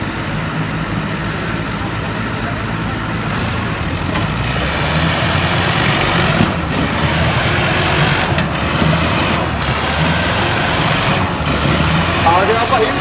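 A tractor engine runs loud and steady with a deep, rumbling idle-like drone that persists the whole time, and voices can be heard in the background.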